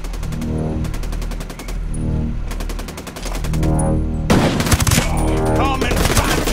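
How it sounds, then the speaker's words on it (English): Heavy exchanges of gunfire in Ghost Recon Breakpoint, with several rapid automatic bursts separated by brief gaps and then a louder, denser volley near the end, all close and intense. "Incoming sniper fire!"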